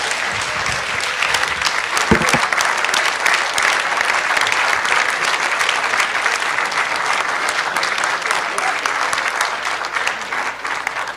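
A large audience claps at a formal meeting chaired before Burma's State Council, sustained, even, crowd-wide applause that carries on unbroken for over ten seconds, with one brief sharper burst early on.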